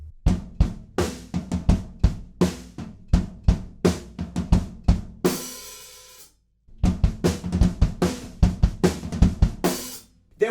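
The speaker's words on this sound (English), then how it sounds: "At the end of the chorus, we go down onto the toms" Drum kit playing a chorus ending, with hits moving down onto the toms in a fill, booming repeated strokes, a ringing cymbal crash and a brief pause before the beat resumes, loud and close.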